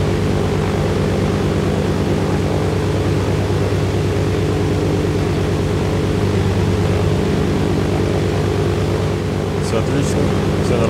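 Propeller aircraft in the game DayZ taking off, a loud continuous droning engine hum with a steady broadband roar that holds unchanged for the whole stretch, close and dominant.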